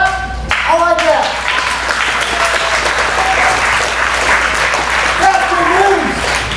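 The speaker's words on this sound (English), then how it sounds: "You can clap. I like that." Audience applause in a church sermon setting: steady, dense clapping filling the room throughout, with a speaker's voice breaking in briefly at the start and again near the end.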